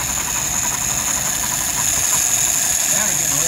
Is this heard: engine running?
yes